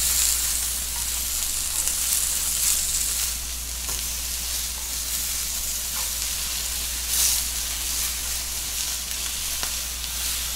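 A steak sizzling in a frying pan, a steady close hiss and crackle of hot fat that runs for about ten seconds without speech, with a low constant hum beneath it.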